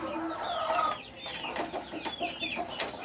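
Backyard chickens cluck and chirp in short, overlapping calls at close range, with a steady murmur of ambient noise underneath and no talking.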